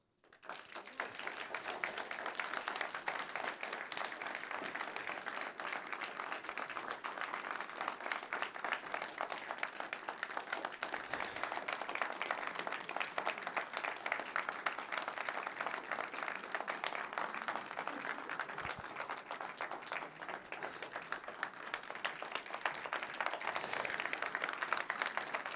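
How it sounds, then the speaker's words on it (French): A theatre audience applauds after a performance with loud, steady, sustained clapping that fills the whole stretch without a break, and almost no voices rise above it. "J'aurais bien vous laisser continuer à applaudir."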